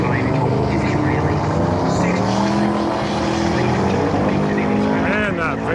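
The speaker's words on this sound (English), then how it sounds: "Man, that VN wagon is flying, man." A Holden VN wagon races down a quarter-mile drag strip at a street machine event, its engine roaring loud and steady throughout, with voices talking over it.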